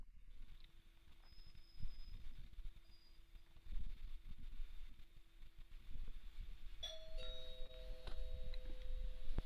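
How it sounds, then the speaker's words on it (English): A faint electronic chime rings out near the end over a quiet background hum, a couple of clear tones that sound like a doorbell. "I heard someone's doorbell"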